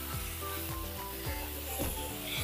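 Vegetables sizzling steadily in a pan and being stirred, a continuous loud frying hiss with a low background hum, close up.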